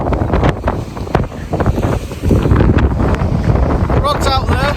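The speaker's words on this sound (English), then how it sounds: "you could say it's got a little bit windy, choppy, rainy, horrible." Strong gusty wind buffets the microphone at the seaside in Bispham during rain, with rough, choppy water and a brief voice near the end.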